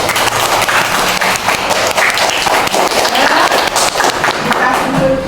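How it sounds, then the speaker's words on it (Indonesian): A class of young children claps in a loud, dense round of applause in a classroom, steady throughout with no pause. "Tepuk tangan buat anak-anak."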